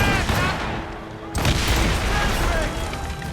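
Naval cannons boom in a sea battle in Assassin's Creed Rogue, a dense roar of repeated heavy blasts with crashing water and shouting crew voices beneath.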